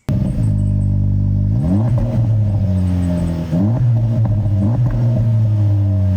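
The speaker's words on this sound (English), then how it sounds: "It actually works and has a great sounding exhaust." The triple-outlet exhaust on a 2024 Acura Integra Type S rumbles at idle, then the engine is blipped twice, pitch climbing and falling back after each loud, close rev.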